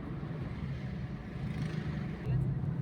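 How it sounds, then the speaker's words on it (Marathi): Car driving fast on the national highway through Katraj ghat, heard from inside as a low steady road and engine rumble, faint and continuous for a few seconds. "हायवे ट्रेनिंग चालू आहे तुफानी स्पीडमध्ये ड्रायव्हिंग चालू आहे"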